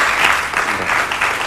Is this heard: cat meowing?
no